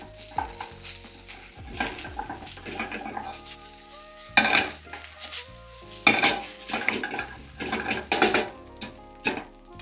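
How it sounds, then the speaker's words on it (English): Rice with eggs, pork and carrots stir-fried in a pan for Japanese fried rice, with a low sizzle under repeated clanks and scrapes of a utensil against the pan, close by and with no talking. "add in the pork and carrots that we cooked earlier. And then give it a nice good mix again"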